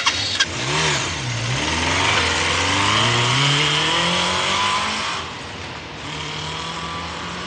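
A Honda 750 motorcycle engine starts and revs in a film excerpt, rising and falling in pitch through several throttle blips before settling into a steadier idle, loud and close.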